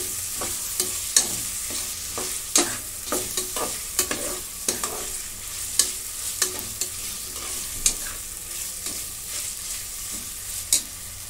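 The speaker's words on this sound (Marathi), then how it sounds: "आता टोमॅटो टाकून घेते. हा पण आता भाजून घेऊया 2 मिनिट." Tomatoes and browned onion fry in a pan for an Indian spiced rice dish, with a steady soft sizzle under repeated sharp clinks and scrapes of a spoon stirring against the pan.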